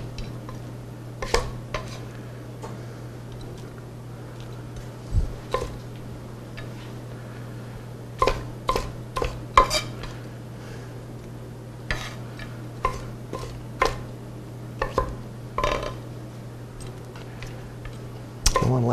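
A kitchen knife chops peppers and onions into bite-sized pieces on a board, giving irregular sharp knocks in loose bursts over a low steady hum, close and clear with no talking.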